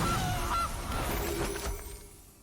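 Gilded Goose honk effect from the Magic Arena card game: a single loud cartoonish goose honk at the start, fading over a couple of seconds.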